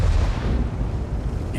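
Tank cannon fire from an Object 752 autoloader in World of Tanks, a heavy low rumbling boom that rolls and decays across the short clip.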